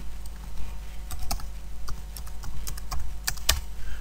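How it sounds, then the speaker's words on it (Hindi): A password is typed on a computer keyboard with quick, uneven clicking keystrokes close by, running steadily over a low background hum. "मैं कोई भी पासवर्ड लिख देता हूँ"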